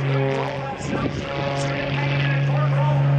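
Zivko Edge 540 aerobatic airplane climbing in knife edge at an airshow, its propeller engine droning loud and steady throughout, with a commentator talking over it.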